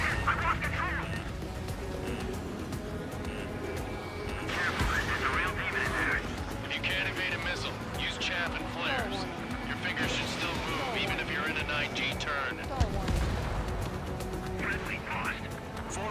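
Ace Combat 7 aerial combat: missile launches and rapid gunfire crackle continuously amid jet engine roar, with radio chatter from pilots talking over the din.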